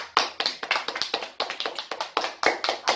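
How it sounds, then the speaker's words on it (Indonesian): Schoolchildren in a primary classroom clap their hands together in a quick, rhythmic burst of sharp claps, near and fairly loud, with no talking over them. "tepuk tangan dulu untuk kita semua."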